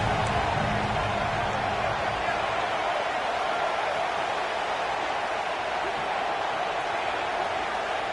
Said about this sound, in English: Man, this crowd really affecting the football.